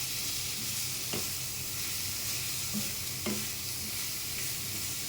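Garlic and ginger frying in oil, a steady soft sizzle throughout with a couple of faint utensil taps, no talking.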